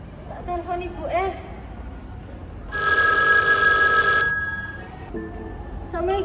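A telephone rings once in a steady electronic burst lasting over a second, with a voice talking briefly in Indonesian before and after.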